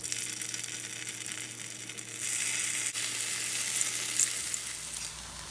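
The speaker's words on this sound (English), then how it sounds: "Let's fry them now." Marinated raw banana slices frying in oil, a continuous close sizzle that swells noticeably louder partway through, with a faint tap or knock, no talking.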